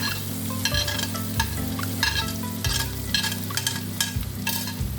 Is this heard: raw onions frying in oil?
yes